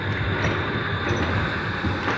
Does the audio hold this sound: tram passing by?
yes